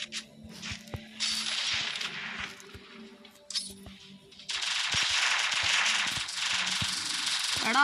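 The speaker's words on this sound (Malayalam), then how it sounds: "എടാ വെടി വെച്ചില്ലേ" Bursts of gunfire from the Free Fire battle-royale mobile game, with sharp rattling volleys coming in several loud clusters and a dense sustained stretch toward the end, plus scattered clicks and game effects.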